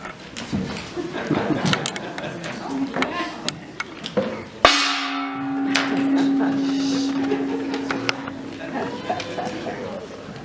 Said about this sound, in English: So instead of having people hit glasses with spoons, we actually used a gong.